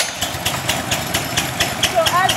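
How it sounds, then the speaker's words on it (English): A gas-powered leaf blower engine starts and runs in a rough, uneven rhythm with repeated pulsing bursts, fairly loud and close, and a brief rising whine near the end. "So as the blower gets started, I'm going to turn the choke down and turn the throttle up."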